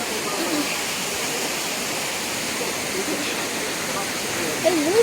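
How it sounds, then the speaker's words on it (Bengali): A waterfall in Meghalaya roars as a steady, dense rush of falling water close by, with a voice briefly audible near the end. "এই যে এখান থেকে ওয়াটারফলসটা ব্যাপক লাগছে"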